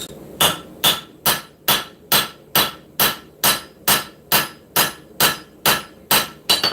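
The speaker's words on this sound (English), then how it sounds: "So we're going to be hammering on this section right here." A hammer striking hot metal on an anvil during blade forging in a shop, working the bevel section: fourteen loud, evenly spaced ringing blows at a steady rhythm, close and alone with no talk.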